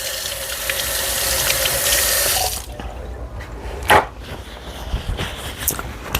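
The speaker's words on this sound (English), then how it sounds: "I'll slide this in the sink and let me rinse my fingers." Running water pours from a sink tap as fingers are rinsed beneath it, a steady close splashing rush that stops abruptly partway, followed by a few scattered drips, clunks and small handling noises.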